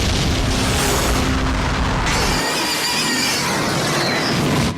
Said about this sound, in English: we rigged it, sent everybody to a safe distance and did the explosion